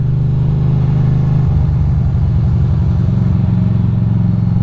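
A car creeps past at walking pace on a Brooklyn street, its engine giving a close, steady low rumble with a faint clattering pulse throughout and no talking.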